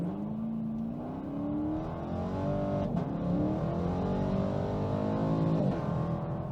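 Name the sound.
2016 Camaro 2SS accelerating 0-60 run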